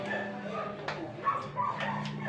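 A dog near a home yard, where tomato plants are being watered, gives a few short yips and whimpering barks, fairly close, over a low background hum.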